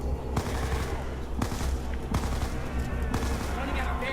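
Rapid MP5 submachine gun fire in Call of Duty Zombies on Mob of the Dead, loud and close, with bursts broken by sharp individual shots over a continuous din of game noise.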